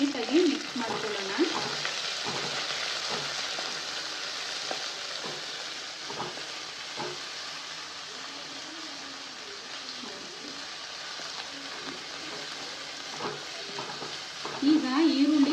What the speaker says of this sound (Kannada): ಅಲ್ಲಿವರೆಗೂ ಇದನ್ನು ನಾವು ಎಣ್ಣೆಯಲ್ಲಿ ಫ್ರೈ ಮಾಡ್ಕೊಳ್ಬೇಕು